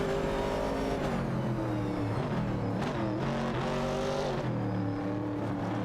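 Racing cars in a video game, an AMC Javelin 70 and a Dodge Challenger, roar continuously with engine pitch rising and falling through revs and shifts, loud and close throughout.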